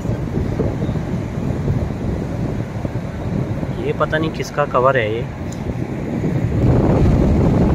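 Wind blows steadily across a Goa beach as a constant broad rush buffeting the microphone, growing stronger toward the end, with someone talking over it.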